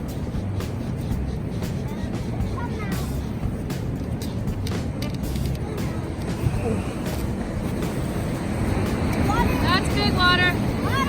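Ocean surf washes in on a beach during razor clam season, a steady broadband rush with wind buffeting the microphone, while people talk and call out over it.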